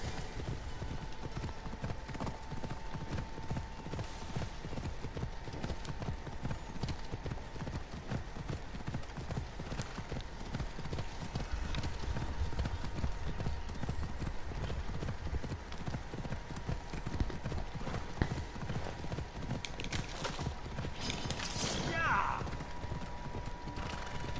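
Horse hooves clip-clop continuously in the Assassin's Creed Odyssey video game, a steady galloping rhythm running throughout, with a brief neigh rising near the end.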